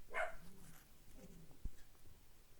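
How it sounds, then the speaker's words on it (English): A dog barks indoors at workers remodeling upstairs: one loud, close burst of barking near the start, then quieter, lower whimpering sounds and a brief thump. "my dog is barking at them because he needs to let them know who's boss"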